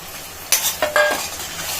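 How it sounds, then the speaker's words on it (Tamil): Onion and tomato being sautéed and stirred in a pan for stingray fish curry, a few scraping stirs and soft sizzling bursts over low steady kitchen background, close by with no talk. "இது வதங்கட்டும் அப்படியே அரைச்சி வச்சிருக்கிற தக்காளியும் சேர்த்துக்கிடலாம்"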